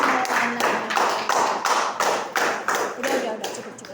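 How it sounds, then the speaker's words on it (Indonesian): Applause after a presentation at a school teachers' training session: a steady round of hand clapping from a room of people, even and fairly close, with some voices underneath. "Kita berikan aplaus yang meriah"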